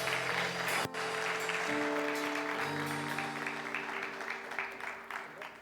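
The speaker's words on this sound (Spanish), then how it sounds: "Dale un fuerte aplauso a Jesús en esta mañana." A church congregation claps during a Sunday morning service, a full wash of applause over sustained musical tones from the worship band, with a sharp knock early on.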